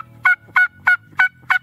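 A turkey hunter's mouth call imitates a hen turkey with five evenly spaced, loud, raspy yelps, each clipped and nasal, repeated steadily at close range with no talk.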